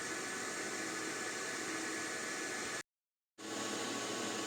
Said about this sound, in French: voilà ce qu'on obtient niveau bruit quand le mineur est totalement lancé